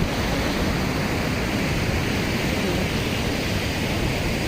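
Steady, broadband roar of surf washing in continuously onto a shallow, rough beach, loud and close, with no voices and little variation over a few seconds.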